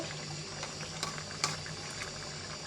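A curry of singh fish, bitter gourd and potato bubbling in a pot, with a steady simmering hiss and a few sharper pops and splutters, close by and moderately quiet, with no voices.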